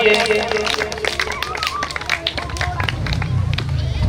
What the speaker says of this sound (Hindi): तो एक बार जोरदार तालियां चौधरी सुल्तान जी के लिए।